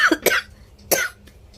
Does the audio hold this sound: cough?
yes